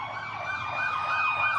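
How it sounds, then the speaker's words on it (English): Emergency vehicle sirens wail outside a radio studio, a rising and falling electronic tone repeating steadily and growing slightly louder as they pass, with no talk over them. "Unlike these sirens who don't realize we're on the damn air."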